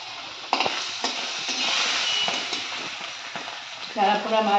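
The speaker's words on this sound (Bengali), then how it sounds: "মাছ ভাজছি" Fish frying in a pan of hot oil in a home kitchen, a steady crackling sizzle with a few sharp spatter pops and stirring clinks, close and fairly quiet.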